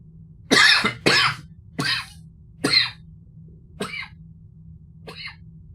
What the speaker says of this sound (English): Oh, too much coughing.